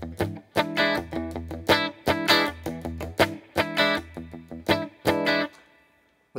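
Electric guitar strummed with right-hand palm muting on the strings, playing the rhythm part of a song in an even, choppy pattern of short percussive chord hits that stops briefly near the end.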